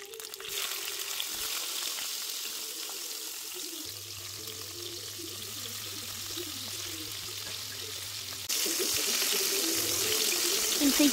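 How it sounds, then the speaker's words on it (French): Aubergines sizzling in a frying pan, a steady hiss with faint crackle throughout, a low hum coming and going and the sizzle growing louder near the end. "soit frire sur une poêle"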